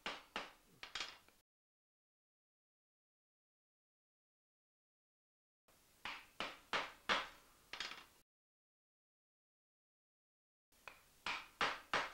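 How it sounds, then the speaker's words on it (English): Copper is flattened between two pieces of wood with hammer blows in three bursts of four or five sharp, close knocks, separated by long silences. "Here I'm flattening the copper between two pieces of wood."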